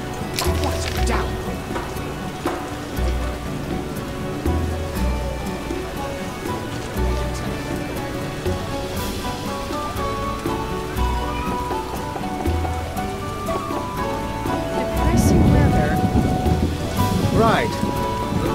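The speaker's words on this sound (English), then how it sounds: "Damn, it wasn't supposed to rain." Steady downpour in The Witcher video game with scattered dripping and occasional low thunder rumbles, the heaviest roll of thunder arriving near the end.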